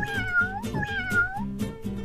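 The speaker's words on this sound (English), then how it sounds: "I still don't like that meow sound they make." Cartoonish cat meows from the video game Tasty Planet: Back for Seconds, two drawn-out mewing calls in quick succession over a busy game soundtrack, fairly loud and close.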